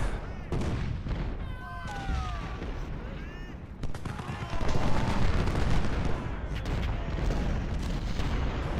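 Artillery and musket fire in the Civil War strategy game Ultimate General at First Winchester, a string of booming shots and crackling volleys, moderately loud, with some busier passages of firing.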